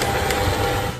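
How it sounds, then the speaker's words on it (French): An electric hand mixer beating biscuit dough as flour goes in, a steady close whirring drone that stays at even loudness for about a second. "Et je continue à travailler au batteur"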